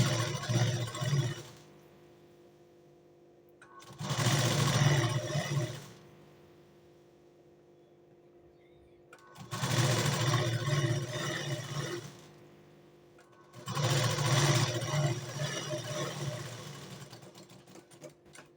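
A sewing machine stitches the waist side seam of a boat neck blouse in four steady bursts of running, separated by short pauses, loud and close.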